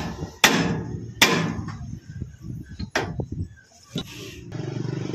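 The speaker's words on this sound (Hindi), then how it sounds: "अब हमें स्टीयरिंग आर्म को हथौड़े से मारकर स्टीयरिंग एंड" A hammer strikes a Swaraj tractor's power steering arm to free the steering end: about five sharp metallic blows, close and loud, spaced unevenly, with quieter knocks and shuffling between them.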